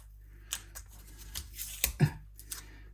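Tape pulled and torn in short crisp bursts on a Telecaster partscaster guitar body, several rips and snaps near and fairly quiet, spread over a few seconds with a louder tear near the end.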